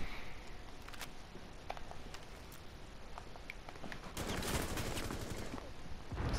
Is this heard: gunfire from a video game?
yes